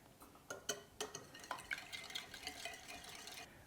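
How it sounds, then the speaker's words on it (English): An egg and an extra egg yolk get whisked into a chocolate lava cake batter in a bowl, producing quick irregular clinks and soft wet taps of the whisk, quiet and close, with no talking. "here I have 1 egg and 1 egg yolk, and I'm going to whisk those in"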